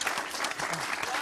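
Audience applause greeting a black Bigorre pig breeder as he arrives, a dense, steady patter of many hands clapping throughout, with some crowd voices mixed in.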